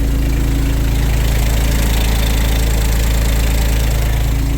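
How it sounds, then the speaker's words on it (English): Inboard motor of a Catalina 30 sailboat running in gear to warm the transmission, a loud, steady low-pitched drone with a constant mechanical throb, close up and with no talking. "So running the motor, and I got it in drive so I can warm up the transmission."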